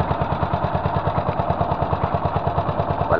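A small boat engine with a broken, partly clogged carburetor runs steadily, a loud close low thumping putter with an even rapid pulse throughout, no voices.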